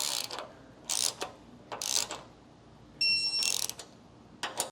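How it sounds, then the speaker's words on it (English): A torque wrench ratchets in several short bursts while tightening running board bolts on a 2022 Toyota Tundra, crisp and close, with a brief beeping tone in between. "So now I'm gonna go ahead and torque these down to the specs and the instructions."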